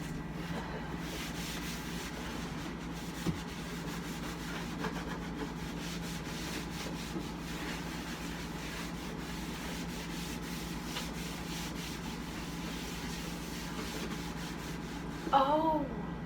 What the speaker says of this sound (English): And then I'll come back and scrub.